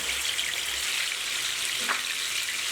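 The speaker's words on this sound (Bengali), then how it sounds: "চুলার আঁচটা কমিয়ে হালকা করে ভেজে নিলেই হবে" Chicken pieces for a roast fry gently on a low flame, giving an even, continuous hiss of oil near the pan with no voices.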